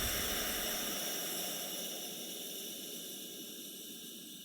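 A spirit stove burner simmers beneath a silent damper cap on a British Military #12 Stove, giving a steady, soft broadband hiss that holds constant and fades slightly, with no voices.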